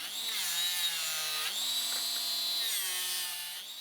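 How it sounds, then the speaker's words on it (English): A mini angle grinder with a cleaning disc removes burrs from metal railing parts, giving a steady, close, high whine that dips and rises in pitch twice as the load on the disc changes. "I cleaned off all the burrs and the surrounding surfaces with a cleaning disc in the mini angle grinder"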